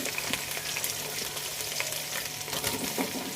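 Carrots and tomato fry with onion in a pan for pulao, giving a gentle steady sizzle with light stirring clicks and scrapes, close and quiet, no one speaking.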